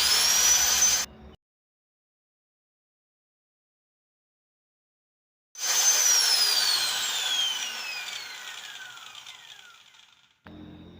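An angle grinder plugged into a homemade wattmeter runs loudly for a moment and cuts off. After a silent gap it starts again with a strong, steady whine that slowly fades and winds down over about five seconds. A short burst follows at the end.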